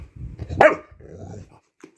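A dog lets out one short, sharp bark with a low growly edge, close by, followed by quiet shuffling and a faint yip.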